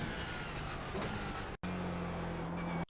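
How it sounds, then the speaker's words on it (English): Toyota GR86 on Summit Point Raceway in iRacing: a loud, continuous engine roar with a brief cut as it downshifts, then a steadier, lower engine tone under braking. "hit the brakes hard and shift all the way down into second gear."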